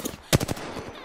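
Gunfire in Apex Legends: a short, close, rapid burst of automatic shots, about four sharp cracks in quick succession, loud and clear with no talking.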